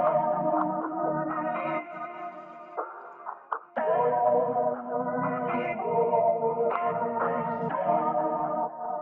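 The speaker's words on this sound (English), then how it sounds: "I put a sound shifter and I pitched everything down by 2 semitones" Melodic samples pitched down two semitones with a sound shifter for a dark, vintage analog feel play as warm, wavering chords and a lilting melody, with a brief dip and pause midway before the phrase resumes.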